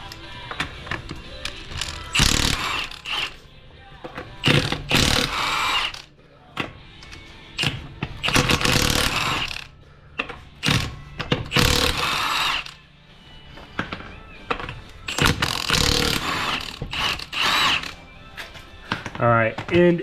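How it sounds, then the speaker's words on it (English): Impact gun bursts remove lug nuts from the wheel of a 2021 Ford F150 jacked up at the frame cross member, loud close whirring rattles in repeated short bursts with gaps between. "So now we're going to go ahead and remove the lug nuts."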